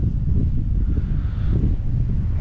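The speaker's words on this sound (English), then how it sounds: "It's probably too windy underneath there." Strong Wyoming wind buffets the microphone with a constant low roar and rumble, steady throughout with no voices.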